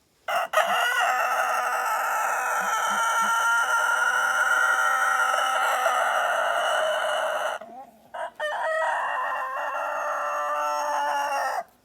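A rooster crows loudly and close by in one long drawn-out call, then a shorter second crow after a brief pause.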